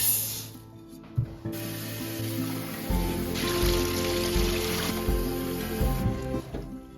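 Millet grains being rinsed in water to make fishing groundbait, close-up splashing and swirling with rubbing grain sounds and a steady watery hiss over several seconds.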